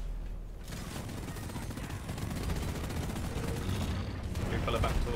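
Video game gunfire during a cooperative mission against enemies, a dense, continuous crackle of rapid shots and impacts, moderately loud and sustained throughout.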